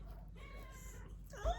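A cat lets out a single short, rising meow near the end, fairly close and over a low steady background rumble.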